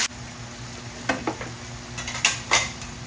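Meat being sautéed for dinuguan, with a constant sizzle and a few sharp scrapes and clinks of a utensil stirring against the pan, close and fairly loud.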